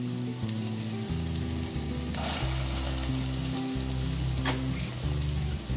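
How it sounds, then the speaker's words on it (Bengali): Lentil fritters for rosh bora dropped one by one into hot oil over a low flame, frying with a steady close crackle and a few louder pops along with a low hum. "একটা একটা করে বড়া আমি এই গরম তেলের মধ্যে দিয়ে দেব।"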